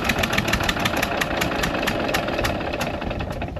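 A Western Australian sheep farm's Allis-Chalmers tractor diesel engine running loud and close, with an even rapid knocking thrum and no talk.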